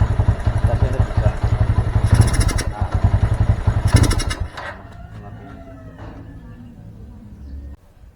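A Honda Mega Pro Primus motorcycle engine runs loud and close with a rapid thumping idle, then cuts out and leaves a quieter background as the engine dies.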